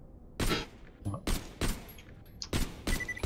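Bursts of gunfire from the video game Borderlands: The Pre-Sequel, about five loud broadband shots or short volleys spaced irregularly over a few seconds, with game noise between them.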